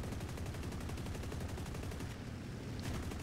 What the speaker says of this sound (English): I fire a long burst at that AA gun